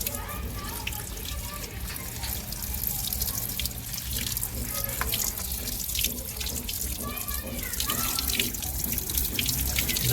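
Tap water runs steadily over button mushrooms being washed in a home kitchen sink, a continuous splashing stream with light drips throughout, fairly close and alone without talk.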